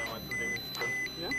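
Repeated electronic beeps from a Geiger counter at Chernobyl, a steady high tone cutting in and out about three times, with talking underneath.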